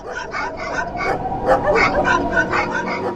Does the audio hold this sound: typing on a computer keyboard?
no